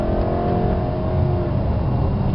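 A HEMI-powered Mopar car engine hums loudly and builds steadily as it accelerates, with a continuous rising drone and road noise close by.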